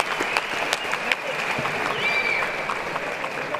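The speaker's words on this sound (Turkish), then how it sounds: "İki boksöre de bir alkış alalım dedi ring anonsörü." Applause for two boxers after a bout, ringing through an arena while the decision is awaited, with steady clapping under faint crowd noise throughout.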